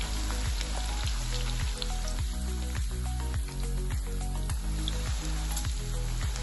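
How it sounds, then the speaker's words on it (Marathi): Fasting bhaji, a vrat snack for Ashadhi Ekadashi, frying in hot oil while being gently turned, giving a steady close sizzle with soft crackle throughout, a low tonal hum underneath and no talking. "हळूवारपणे आपण ही भजी अशी पलटवून घेणार आहोत"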